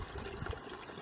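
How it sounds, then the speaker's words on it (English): Water from the largest spring in Värska, Estonia, a mineral spring, flows and trickles in a short steady stream close by. No voices are heard. "this is the famous spring, the largest spring in Värska"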